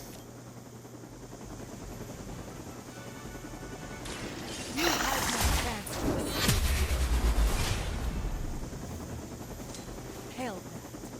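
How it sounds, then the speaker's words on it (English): Helicopter in the video game Marvel's Midnight Suns, a steady rotor drone running throughout under a spoken line, with crashing impacts and mechanical clatter building in the middle. "The helicopter is about to leave."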